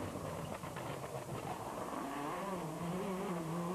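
Onboard a Subaru rally car on a stage of the 2003 West Cork Rally, the engine drones loudly and continuously, its pitch climbing steadily as the car accelerates.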